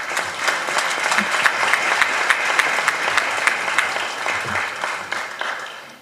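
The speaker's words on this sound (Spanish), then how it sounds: "Desde luego también un fuerte aplauso para el doctor Jorge Fernández Ruiz" A conference audience gives a sustained, even round of applause for a guest researcher at a lecture on political power; the clapping is loud and continuous, tapering near the end, with no voices over it.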